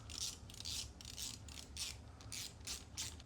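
A ratchet clicks in quick repeated strokes while tightening an ASV brake lever on a Ducati Monster 937 motorcycle, close and fairly faint, with no talk.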